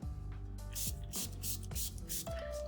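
Several quick hissing spritzes from a spray bottle, fired in a loose rhythm, quiet and close.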